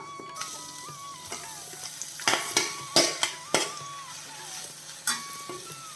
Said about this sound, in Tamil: மீடியம் ஃப்ளேமில் வச்சு வதக்கிக்கலாம்.